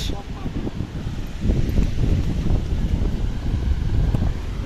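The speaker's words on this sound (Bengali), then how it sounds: "বাতাসের শব্দে ভরে যায় মন" Seaside wind at Guliyakhali Sea Beach rushes loudly and steadily across the microphone, a dense, continuous gusting roar with no voices.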